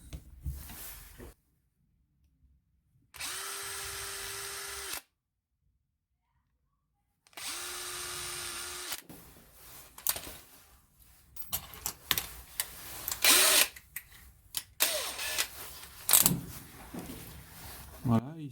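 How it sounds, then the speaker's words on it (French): A small drill whirs in two steady bursts, boring 5 mm holes in a leather sheath for a neck knife, close and clear with silent gaps between, followed by handling clicks and rustling under a voice. "et ici les perçages à 5 mm"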